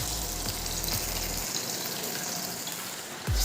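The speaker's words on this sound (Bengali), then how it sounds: "এই যে এখন এই গাদা পেটি মাছগুলো এখন ভাজবো" Pieces of fish fry in a pan with a constant broadband sizzle like running water. A low hum fades after the first moments, leaving an even, close hiss with no talking.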